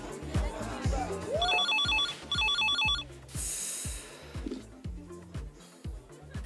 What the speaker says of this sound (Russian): Алло, Папахин, ты что, это новая фишка у тебя звонить мне по ночам?